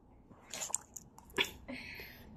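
A dog eats bread with wet bites and crunchy chewing, a few close irregular snaps and squishes across a quiet background.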